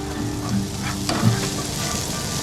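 Sausages sizzle in a frying pan at breakfast at a gold-prospecting camp. A steady, close crackle runs throughout with a few sharper pops, and no voices are heard.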